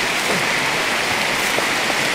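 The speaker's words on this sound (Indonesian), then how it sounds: "Ini hujan juga nih, udah sore juga." Steady rain pouring down outdoors in the late afternoon, a dense, even hiss of falling water that stays loud and unbroken throughout, with no voices.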